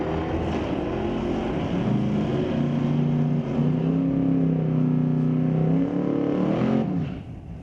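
A 2023 Corvette and a 2018 Dodge Challenger run a street-legal drag race at Mission Raceway Park, their engines a loud, sustained roar with rising pitch that holds at full throttle before dropping away near the end.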